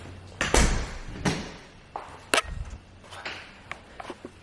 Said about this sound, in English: close the door right here